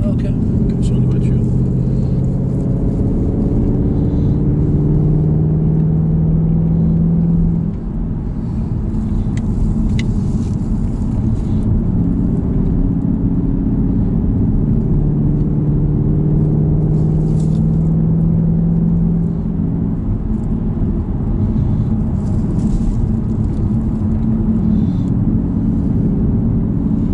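A car cruising on a road during a driving-course outing, a steady low engine rumble and tyre noise with occasional revving, heard from inside the cabin beneath ongoing conversation.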